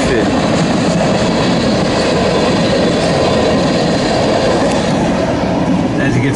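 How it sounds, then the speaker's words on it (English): An empty BNSF crude oil freight train rumbles through Lyons, Nebraska, in a loud, continuous wash of wheel and rail noise with faint squeals, close by and steady throughout. "as this train goes through Lyons and past my pretty girl Bella, makes a sweeping left turn"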